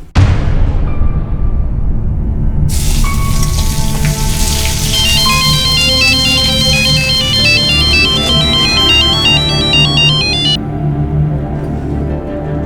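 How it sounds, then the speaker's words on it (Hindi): A phone ringtone sounds loudly for an incoming call, a repeating melodic electronic tune with bright, high chiming notes over a thick layer of sound, playing continuously with no talking. "कमल, मैंने तुम्हें बोला था ना, मुझे फिर कभी फोन मत करना।"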